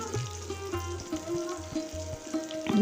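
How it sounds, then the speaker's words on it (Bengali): Tomatoes fry in a pan with dry spices as a soybean vegetable dish cooks, giving a steady close sizzle with periodic scraping stir strokes on the pan in an even rhythm. "টমেটোটা যতক্ষণ না নরম হয়ে যায় ততক্ষণ আমি একটু কষে নেব"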